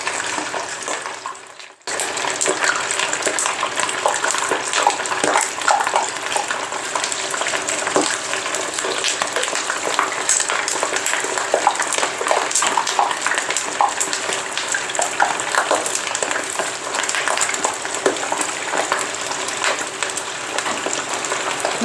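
Chicken wings dropped into a pot of hot oil set off a loud, dense crackling sizzle. After a brief quiet moment at the start it continues steadily and close, with no talking.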